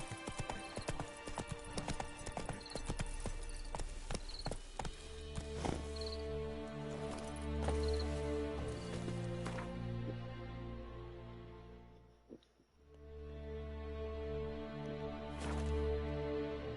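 Roach, the horse in The Witcher 3: Wild Hunt, gallops with steady rapid clip-clop hoofbeats over game music, with occasional whinnies and no talking.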